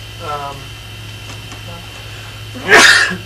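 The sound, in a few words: sneeze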